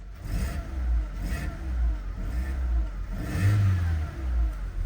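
A cold 2012 Skoda Octavia with a 1.6 petrol engine revs in short bursts, its mid-pitched engine rising and falling several times close by with a steady rumble underneath and no talking.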